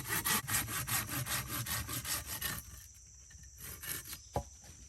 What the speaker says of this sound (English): If you ever had a hard time cutting a piece of wood with a saw because it's just moving all over the place